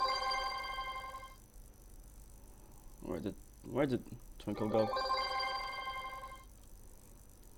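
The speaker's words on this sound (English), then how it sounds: "Linux is ringing, Twinkle is ringing." A Twinkle softphone on Linux ringing during a VoIP call test, a repeating electronic ring pattern near and clear that pauses while someone speaks briefly in the middle, then resumes.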